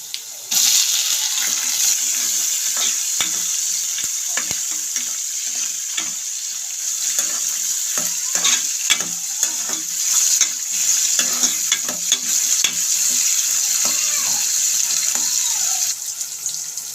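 Onions fry in oil with peanuts and tempering spices for gongura upma, a loud continuous sizzle near the pan with frequent stirring clicks and scrapes, and no one speaking.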